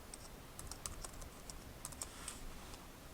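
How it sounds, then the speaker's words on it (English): Someone types a paragraph on a computer keyboard: a faint, uneven run of soft key clicks, close and alone with no talking. "I have another paragraph of information that I want to type in"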